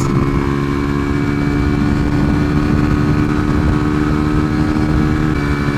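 A 125cc motorcycle engine runs steadily and loudly up close, a continuous buzzing drone with only slight rises in pitch, no voices over it.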